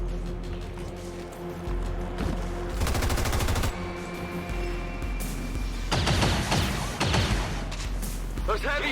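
Gunfire in XCOM 2 comes in dense rapid bursts around the middle and again near the end, set over a steady low game hum with harmonic tones and some in-game voices.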